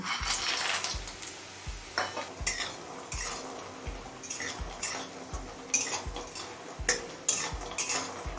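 Lentil dumplings (bori) frying in mustard oil in a pan, with a steady rhythm of metal spatula clinks and scrapes over a low sizzle, close and unaccompanied by speech.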